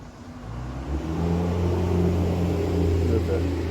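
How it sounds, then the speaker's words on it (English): A diesel truck passes on a quiet rural road beside the McKenzie River, its low engine rumble swelling and holding steady near the microphone for a few seconds, with a voice nearby. "There's a diesel. Not too many trucks travel this road."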